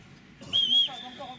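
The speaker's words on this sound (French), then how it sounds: "c'est vraiment le coup de sifflet le problème" Referee's whistle at an outdoor football training session, one short shrill blast heard close and clear among players' voices.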